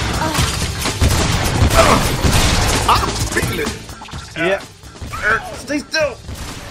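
Rapid gunfire in the hack-and-slash game Lollipop Chainsaw, loud bursts of shots mixed with crashes and impacts in a dense, close battle din, with a voice talking over it.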